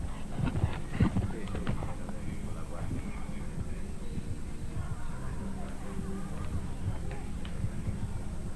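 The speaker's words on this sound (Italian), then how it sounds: "Cavallo piuttosto grande." Hooves of a fairly large horse clip-clop at an Italian show-jumping event, a steady walking rhythm close by under continuous crowd murmur and nearby talk.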